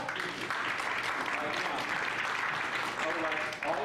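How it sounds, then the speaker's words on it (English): An audience at a live Detroit event breaks into steady applause, a dense wash of clapping that holds for about four seconds before tapering slightly at the end. "let's give them a round of applause"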